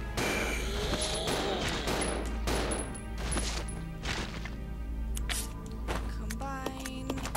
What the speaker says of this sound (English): I like Billy's gun because it shoots faster.